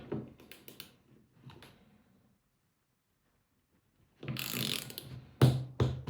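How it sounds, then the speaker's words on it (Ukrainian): Bursts of mechanical ratcheting clicks from a torque wrench tightening a bolt on a carbon stem, close by, in two clusters separated by a pause of near silence. "Давайте виберемо один болт і будемо його крутити."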